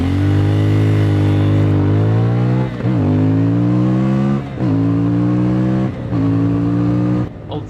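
A 2024 CFMOTO 450MT motorcycle with a 270-degree crankshaft parallel-twin engine runs loud and close, its steady drone rising in pitch through the gears with brief dips at each shift.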